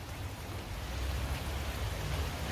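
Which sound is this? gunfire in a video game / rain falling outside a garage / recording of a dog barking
rain falling outside a garage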